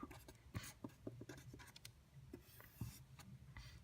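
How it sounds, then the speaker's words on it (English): Chalk or marker writing on a board during a maths lesson on differentiation, heard as a series of short, faint scratches and taps in an irregular rhythm with small pauses between strokes. "Let me just write it on top."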